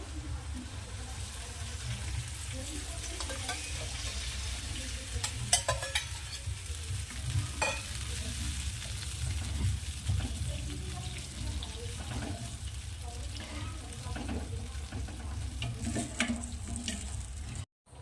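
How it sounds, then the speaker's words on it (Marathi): Tamarind water poured into a pan of sizzling onions; a steady hiss and bubbling continues with stirring scrapes and light clinks throughout. "आता यामध्ये आपण हे चिंचेचं पाणी ॲड करू"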